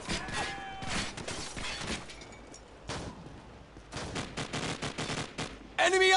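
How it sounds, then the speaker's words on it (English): Dense bursts of automatic gunfire and explosions from a Call of Duty Modern Warfare battle, loud and continuous with rapid volleys and a sharp closing burst, mixed with game voices calling out. "Give me some covering fire."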